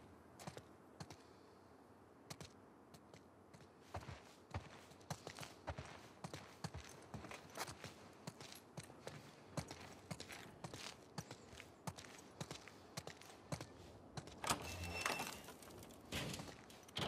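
Horse hooves in The Last of Us Part II, a steady run of soft, irregular clopping steps on the ground, fairly quiet, with a brief louder rustling burst near the end.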